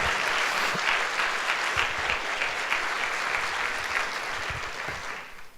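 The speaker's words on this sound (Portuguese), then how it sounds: "Vamos dar um aplauso a Jesus?" A church congregation applauding during a Sunday service, a full, steady round of clapping that carries on for several seconds before fading out at the end.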